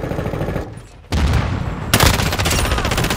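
Loud, close automatic gunfire in Call of Duty Modern Warfare II, a sustained rapid burst that breaks off and then resumes even heavier after a brief drop.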